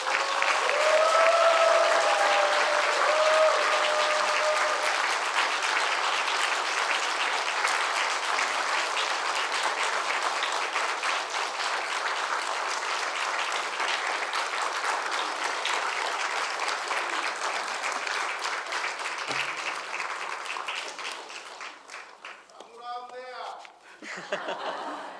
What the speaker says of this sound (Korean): 뜨겁게 박수로 환영하도록 하겠습니다